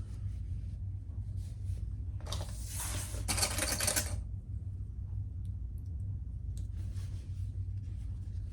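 A home sewing machine stitches the bottom seam of a fabric bag, running in a short burst of rapid mechanical whirring over a low hum, with faint clicks before and after.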